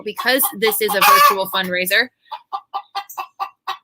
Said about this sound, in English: As you can hear my chickens in the background,